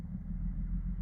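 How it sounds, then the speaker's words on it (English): Road traffic rumbles steadily in the background near a wooded habitat site, a continuous low, distant drone of passing vehicles with no talk. "You can hear the traffic in the background behind me here."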